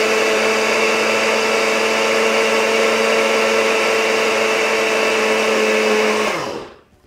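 A kitchen blender blitzes desiccated coconut with a loud, steady high-pitched whir that holds for about six seconds before the motor cuts off and spins down.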